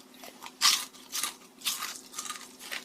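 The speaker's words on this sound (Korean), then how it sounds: "이거 튀김은 되게 바삭거리네?" Crispy fried chicken from a Korean delivery chain being bitten and chewed up close, a series of loud crunches, the first sharp and strong, followed by softer rhythmic crackling chews.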